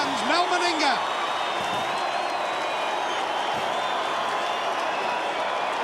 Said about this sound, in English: The crowd go wild here at Lang Park for one of their favourite sons, Mel Meninga.